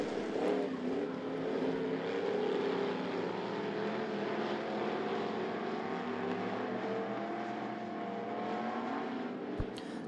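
Race cars circling I-75 Raceway in a dirt-track Thunder class event, a dense, continuous engine roar from several cars at once that stays loud and steady throughout, with no talk over it.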